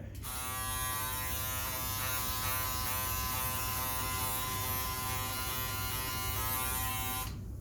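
Close electric beard trimmer buzzing steadily with a strong harmonic whine, switched on for about seven seconds and then cut off, with no talking over it.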